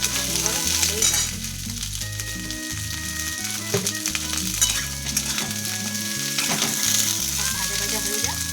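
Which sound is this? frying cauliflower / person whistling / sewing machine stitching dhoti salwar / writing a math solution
frying cauliflower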